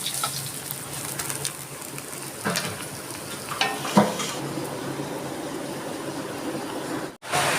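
Rohu fish pieces sizzle in hot oil as they are lifted out of the pan, a continuous crackling fry broken by a few sharper scrapes and clinks.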